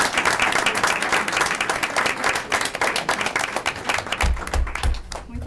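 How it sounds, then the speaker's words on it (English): Applause for students at an Oshkosh school board meeting, many hands clapping in a steady, moderately loud burst that thins slightly toward the end. "Let's have a round of applause for all the students who are here and those missing tonight."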